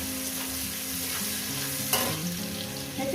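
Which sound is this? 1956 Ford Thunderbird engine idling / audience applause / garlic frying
garlic frying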